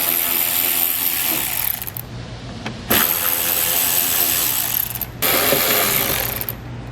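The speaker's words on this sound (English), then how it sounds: "you're going to have 2 bolts on the bottom and 1 bolt on the fender liner that we're going to remove with an 8mm socket" Rapid mechanical ratcheting from a socket wrench with an 8mm socket as bolts are backed out of the fender liner and lower trim behind the wheel of a 2016 BMW, loud and close in three long bursts separated by brief pauses.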